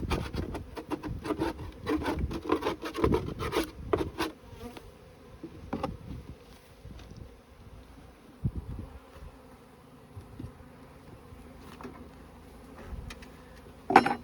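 Honey bees swarming around a hive box during a beekeeping inspection, a close, wavering buzz with sharp rubbing and wooden knocks from frames being handled, busiest at first, then thinner, with a loud clack at the end.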